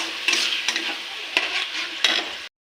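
A banana stem curry is stirred in a pan while it fries, the steady sizzle broken by a few sharp scrapes of the spoon against the metal over about two and a half seconds.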